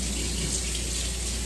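Hot water running from a tap, a steady, close, full-bodied rush that runs continuously without pause or voices.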